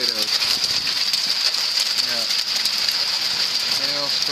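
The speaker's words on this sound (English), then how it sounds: "hailstorm again. I wonder how much damage this is going to cause." Hail pelting down in an Alberta summer storm, a loud, steady roar of hailstones striking surfaces for the whole stretch, with a faint voice briefly audible.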